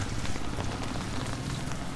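Steady rain during a long spell of stormy weather, falling as a continuous broadband patter at even loudness with no voices over it.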